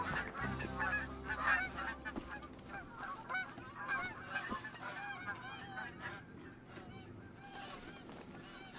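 Geese honk repeatedly in the hunting game theHunter: Call of the Wild on the Yukon map, a busy, overlapping flock chorus that is fairly close, then thins out toward the end.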